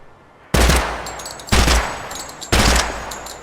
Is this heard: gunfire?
yes